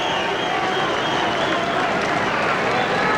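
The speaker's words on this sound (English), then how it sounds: "Hernandez going around, getting a round of applause from the fans." Boxing fans applaud and cheer around the ring as a fighter circles after the bout, a dense, steady roar of clapping and crowd noise filling the arena without a break.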